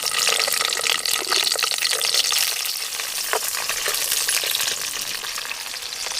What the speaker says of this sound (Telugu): ముందుగా అయితే మనం పచ్చిమిర్చి గోలించుకుందాం.